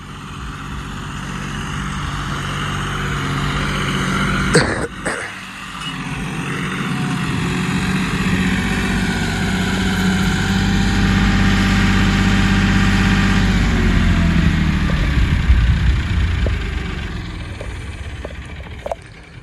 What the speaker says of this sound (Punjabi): ਮੇਸੀ ਨੇ ਲੋ ਗੇਅਰ ਲਾ ਕੇ ਦੂਜੇ 'ਚ ਟਿਕਾ ਕੇ ਲੱਗ ਗਿਆ